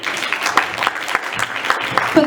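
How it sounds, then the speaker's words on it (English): Audience applause at an International Women's Day event as Dr. Jasleen Kaur is called up on stage: a loud, brisk round of clapping from a room of people, with faint voices mixed in. "A big round of applause."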